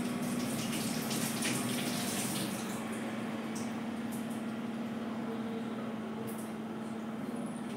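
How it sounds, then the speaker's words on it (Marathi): Tap water runs steadily over a ripe, softened papaya as it is rinsed in a home kitchen: a continuous, close, fairly loud hiss and splash with a low steady hum beneath, and no voices. "पहिले तिला धुवून घेते।"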